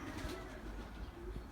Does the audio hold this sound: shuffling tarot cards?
no